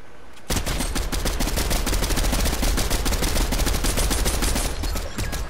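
Rapid automatic gunfire bursts out loud and continuous for about five seconds in a shooting video game, dense crackling shots following a brief quiet start.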